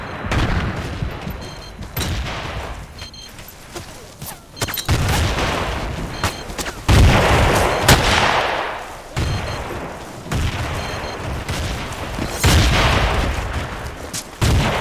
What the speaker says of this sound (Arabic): ألقيت قنبلة